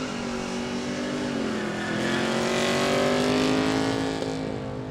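A street car with a four-barrel carburettor revs hard at a quick street drag event, the engine roaring loud and close with a steady high-rev drone that swells slightly midway, no voices over it.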